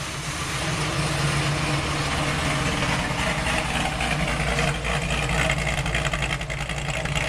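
A 1986 Oldsmobile 442 with an Oldsmobile 440 V8 and new exhaust idles steadily with a slight lope, a low, continuous rumble close by and alone.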